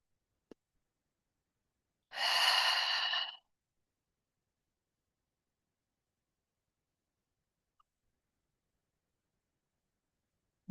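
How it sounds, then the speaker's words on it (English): A single slow centering breath, a soft airy exhale lasting about a second, alone in near silence. "let's take a centering breath together"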